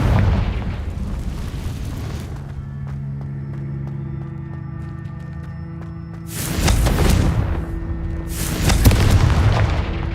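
Confringo blasting-spell explosions in the video game Hogwarts Legacy: a roaring burst at the start fades into a humming tonal drone, then two loud booming blasts follow a couple of seconds apart.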